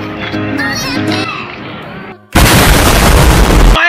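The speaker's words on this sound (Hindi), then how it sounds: "माय गॉड, इतना खतरनाक धमाका जिंदगी में पहली बार देखा" A small firecracker bomb set off during a Shab-e-Barat celebration bursts with a loud, sustained roar of noise after children's voices and chatter, then cuts off abruptly.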